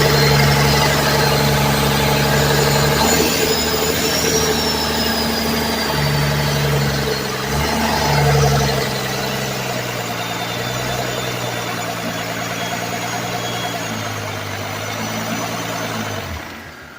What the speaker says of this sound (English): I was able to find a good running 12-valve Cummins out of a 92